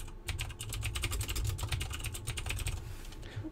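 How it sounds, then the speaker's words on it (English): Rapid, steady typing on a computer keyboard, entering text into a LaTeX Beamer presentation, dense close-up clicking that runs without pause and with no voices. "In the square brackets, we're going to type in the name of the school, and in the curly brackets we can type in the department."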